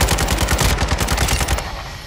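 Sustained automatic weapon fire in Call of Duty: Modern Warfare II, a steady rapid stream of loud, close shots lasting about two seconds with no talk over it.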